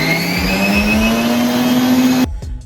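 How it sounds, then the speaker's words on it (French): A food processor whips three egg whites with a pinch of salt, its motor droning loudly at a steady, slowly rising pitch before cutting off abruptly, leaving a brief fading rattle. "j'ai mis mes 3 blancs dans mon robot"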